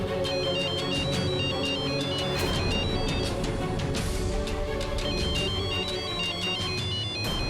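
A telephone ringtone plays at night, a repeating electronic melody of bright beeping tones over a steady low background hum, sustained and fairly loud with no talking.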